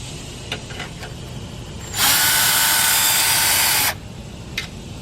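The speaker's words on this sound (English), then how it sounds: "Get some electric tools in here and get this done." An electric power tool backing screws out of an engine wiring harness, a loud high whirring burst of about two seconds between faint clicks and handling noise.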